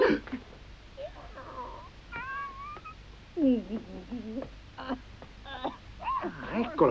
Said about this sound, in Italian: eccolo il gatto